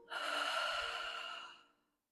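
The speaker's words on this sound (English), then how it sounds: "And breathe out." A person exhales audibly in a single long, close breath out of about a second and a half during a guided breathing exercise, fading into silence.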